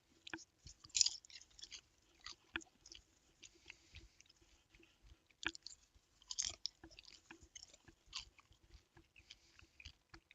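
AMC Perfectly Pop popcorn chewed close to the mic, steady crunchy mastication with soft bites and irregular crunches, fairly quiet and with no talking.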